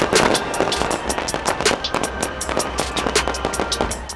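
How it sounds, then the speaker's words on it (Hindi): New Year fireworks display over city streets: rapid bursts of bangs and crackles, fairly loud and continuous, some reports closer and sharper than others, with faint crowd noise underneath. "मुख्तलिफ ममालिक में शानदार आतिशबाजी के जरिए नए साल को खुशामदीद कहा गया।"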